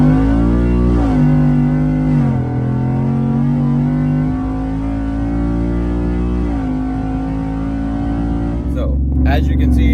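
A 2023 Ford F150 truck with a 5.0 Coyote V8, 10-speed automatic, bolt-ons and E85 fuel pulls hard from inside the cab, its engine droning loudly and climbing in pitch through several gear changes before easing off.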